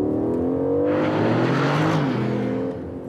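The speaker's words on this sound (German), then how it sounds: "Der Auspuff-Sound lässt sich per Klappe steuern." Aston Martin Vantage with a flap-controlled exhaust revving up close, its engine note climbing in pitch through a strong burst of throttle, then settling back and fading slightly toward the end, heard alone without talk.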